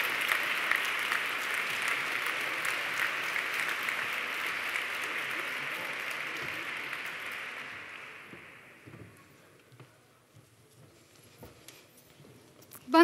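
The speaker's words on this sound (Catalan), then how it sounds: "Per tant, a la Yusra i a la Cèlia, un aplaudiment ben fort i que puguin pujar a l'escenari també." Sustained applause from a graduation ceremony audience, a dense steady clapping that fills the hall for about eight seconds, then thins out and fades to near silence.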